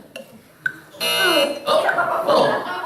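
A loud, sustained electronic buzzer sounds for about half a second, then again, with voices talking around it, during a timed quiz round at a Christmas concert.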